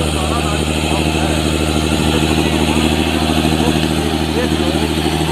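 A large tractor engine runs steadily and loudly at close range, a continuous low throbbing drone with a rough mechanical texture and no clear revving.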